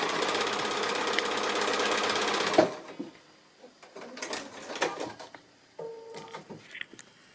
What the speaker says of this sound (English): just sewing them along that line, and they'll just flip down